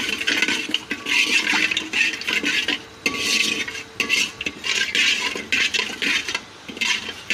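Spices frying in a small amount of oil in a pan, with loud close sizzling and repeated scraping stirs of a spoon against the pan, no talk.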